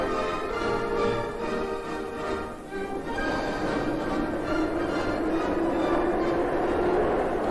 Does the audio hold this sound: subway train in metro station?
yes